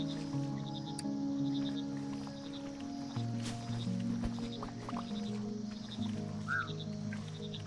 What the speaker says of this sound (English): I love how the little croak sounds like it's going,